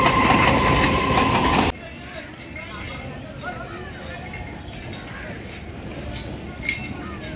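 A local train running between Sealdah and Kolkata station in Kolkata, loud and close at first, then a steadier rumble with faint clicking and clatter of the carriages, mixed with background voices.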